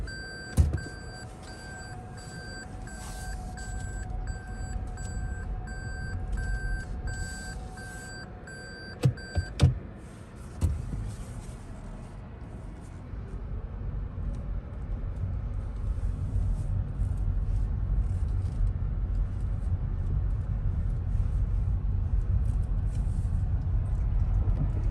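Interior cabin sound of a 2021 Toyota Prius LE: high electronic chime beeps at first, a couple of sharp clicks or thumps, then a steady low road and motor rumble that grows as the car drives along.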